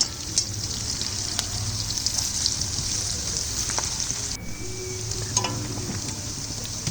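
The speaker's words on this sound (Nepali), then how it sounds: "फ्राई गरेकोमै मैले प्याज पनि त्यही फ्राई गरेँ।" Onions frying in a pan in the fat left from buff meat, a close, steady crackling sizzle with occasional light clinks of a utensil, continuing alone without talk.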